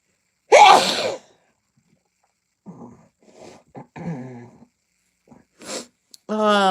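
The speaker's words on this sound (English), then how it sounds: "I had a sneeze." A single loud, sharp sneeze bursts out near the start, followed by quieter sniffs, breaths and a few soft vocal sounds.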